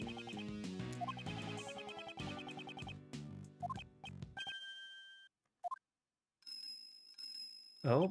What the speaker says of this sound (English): It is a dog with a bell on it.